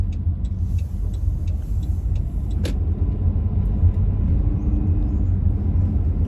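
Continuous low road rumble and engine drone from a car driving on US19 in Pennsylvania between Erie and Waterford, steady throughout, with a few faint clicks and one sharp tick early on, no talking.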